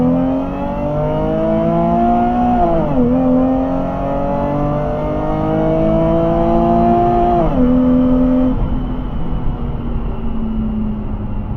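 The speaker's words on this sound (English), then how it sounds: "here's a 25 mile an hour roll" A supercharged Nissan 370Z pulls hard from a 25 mph roll, its engine note rising steadily through gears with two brief dips at the shifts, loud and close.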